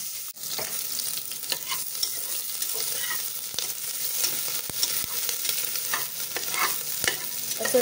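Onion, ginger and garlic frying in oil while being stirred, with a continuous close sizzle broken by repeated scraping and clinking strokes of a spoon against the pan.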